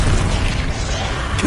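Bombarda explosion spell in Hogwarts Legacy, a dense rumbling blast with a sustained low boom and crackling debris that fills the whole moment, loud and close with no talk over it.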